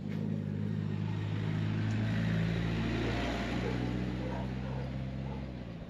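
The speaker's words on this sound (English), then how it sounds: "That type of truck is called a ruta." A ruta, a Nicaraguan public transport truck, rumbles along a street in Sutiava, its engine drone loud and steady, slowly fading as it moves off.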